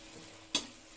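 Eggplant and dried fish frying in a pan, a faint steady sizzle broken by one sharp scrape or clink of the spoon midway, close and quiet, with no talking.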